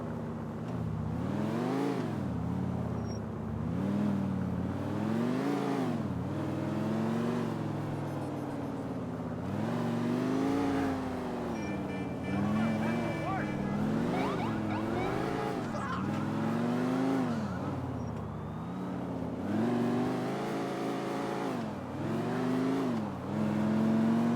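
Grand Theft Auto 4 car drives continuously with a loud engine that repeatedly revs up and eases off in rhythmic surges, steady and close throughout.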